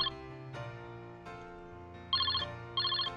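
A telephone rings in a calling tone over soft background music. Two bright, warbling ring bursts are heard near the end, with no voices.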